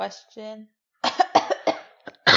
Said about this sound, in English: I'm going to be editing out so many coughs into this episode.